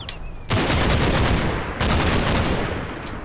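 Close gunfire in Combat Mission: Battle for Normandy erupts abruptly after brief quiet, a dense, loud stretch of rifle and machine-gun shots with a second burst kicking in partway through.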